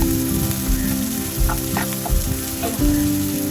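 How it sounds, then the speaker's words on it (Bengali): Chopped onions sizzling in hot oil in a kadai for a chicken curry, a loud continuous frying hiss with a few stirring scrapes and clinks, close up and alone. "তেল দিয়ে তারপর পেঁয়াজ কুচি দিয়েছি পেঁয়াজ কুচিগুলো একটু ভাজা ভাজা হয়ে গেলে"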